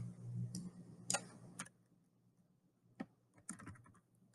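Someone types a student's name on a computer keyboard, a few quiet scattered key clicks in short bursts with pauses between them, close and soft in a quiet room.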